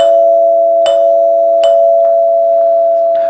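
NuTone bar chime sounding the rear-door signal, a few bright metallic tone strikes with long ringing sustain, recorded up close with no speech over it.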